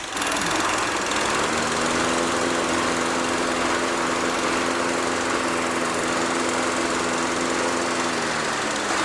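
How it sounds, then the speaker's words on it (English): A Toro lawn mower engine runs loud and steady nearby, its drone shifting slightly in pitch as the blade clutch engages under load. "That's the blade clutch."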